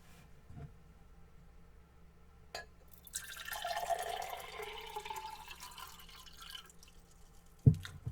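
A short stream of tea pouring into a mug, rising slightly in pitch as it fills, framed by faint clinks before and after in a quiet room.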